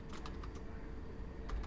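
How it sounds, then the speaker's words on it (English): Keys tapping on a computer keyboard in a run of quick, uneven clicks over steady background noise; no one speaks. "You're going to type in"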